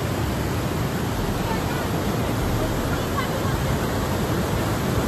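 Lingmala waterfall at Mahabaleshwar pours in a constant dense rush of falling water, loud and near, with faint crowd murmur beneath.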